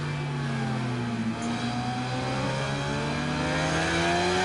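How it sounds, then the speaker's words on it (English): A 600cc sport motorbike in the racing game Ride 5 accelerates hard, its engine note climbing steadily in pitch in a continuous loud whine with no speech. "And look at the acceleration there of Hickey 6 there."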